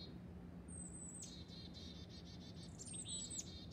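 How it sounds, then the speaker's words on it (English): A chickadee calls from a tree in winter, a few high, thin whistled and chattering notes at moderate distance over a low steady background hum, with no voices. "That is one of our most common winter birds, the chickadee. Very distinct call."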